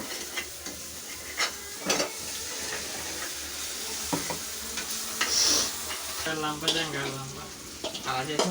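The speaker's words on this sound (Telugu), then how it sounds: "స్పీడ్గా తిప్పేస్తున్నాడు చికెన్ మసాలా కూడా వేస్తున్నాడు" Chicken curry frying in a pan and being stirred quickly as masala goes in: scraping stirs and soft sizzling come close up in bursts, and a voice speaks near the end.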